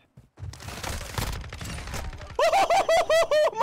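Rapid gunfire from an FSS Hurricane submachine gun in Call of Duty: Modern Warfare II: quick bursts of shots close up, followed by a pulsing electronic tone in regular beats.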